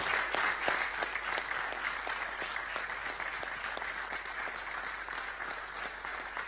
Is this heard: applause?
yes